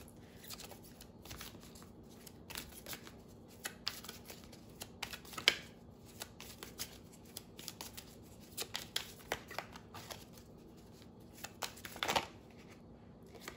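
Tarot cards from a Teen Angel deck being shuffled and drawn, giving soft, quick papery riffles and flicks in irregular bursts, fairly close but quiet, with no talking.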